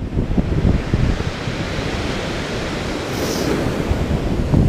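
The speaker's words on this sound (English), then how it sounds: "I'm just filming the noise because I love the sound of the sea." Sea waves break and wash up on a shore at Colwyn Bay, a loud, continuous rushing surf with gusty wind buffeting the microphone throughout.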